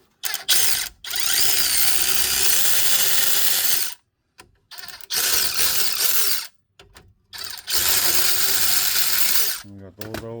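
Ratchet working 14 mm brake caliper bolts on a 2007 Saturn Ion, several bursts of rapid close clicking separated by short pauses, with a brief voice near the end.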